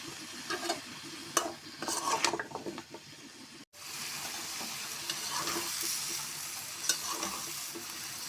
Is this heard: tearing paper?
no